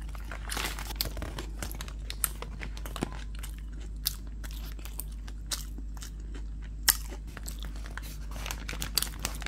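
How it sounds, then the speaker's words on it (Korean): Close, crunchy bites and chewing of a handmade hamburger with a butcher-made fresh patty and soft bun, with crinkling of the wrapper throughout and no talking. "이렇게 햄버거를 먹어 치웠는데요"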